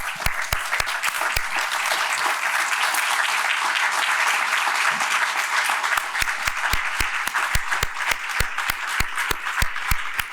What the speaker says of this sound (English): let's give her a beautiful round of applause